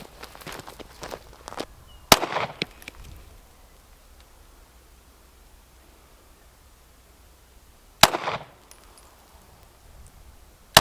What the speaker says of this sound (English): we're gonna shoot these with a 9mm